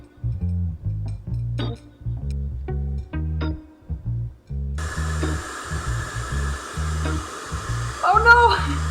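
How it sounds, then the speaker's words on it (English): Blow dryer pushing a steady stream of air across a fake gold nugget on a plate, a broad hiss starting midway and holding loud to the end, with a brief whine near the close. "My fake gold, it's moving around the plate just with a little bit of air from the blow dryer"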